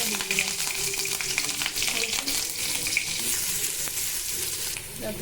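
Two slit green chillies hit hot oil already holding onions, ginger and cumin, setting off a steady, bright sizzle that crackles continuously at close range.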